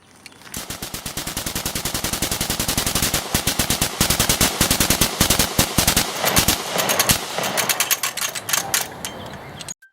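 A firearm emptying magazines in rapid bursts, dense fast-paced shots crackling continuously for nearly the whole stretch with brief gaps between bursts, loud and close, no voices.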